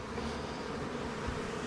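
Bees from a swarm trap box, just moved into a 10-frame hive, fill the air with a steady, close, dense buzzing hum that holds without a break.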